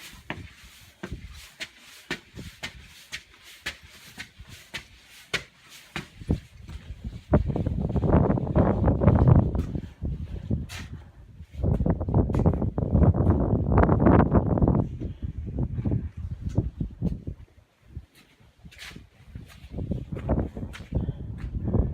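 Wind gusting through a valley on the Appalachian Trail between Neel Gap and the NOC, roaring in long blustery surges against the microphone, alternating with quieter stretches filled with footsteps and light rustling.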